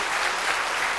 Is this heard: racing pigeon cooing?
no